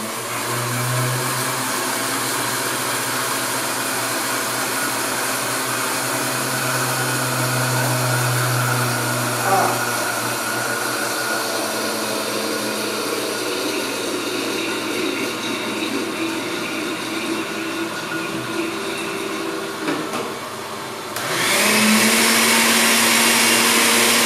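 A kitchen blender whirs continuously while blending homemade green sauce, a loud steady motor drone that holds its pitch, then surges louder and higher near the end as the speed picks up.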